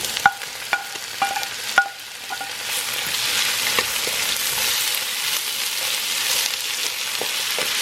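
Pancit bihon with snow peas stir-fried in a pan, sharp spatula clinks against the metal at first, then a loud, steady hissing sizzle that builds and holds with occasional light scrapes.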